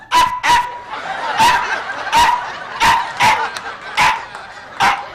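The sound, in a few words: person imitating a dog barking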